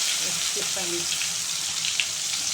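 Stuffed bitter gourds dropped one by one into hot oil for a curry, a constant loud hissing sizzle close by with faint talk beneath.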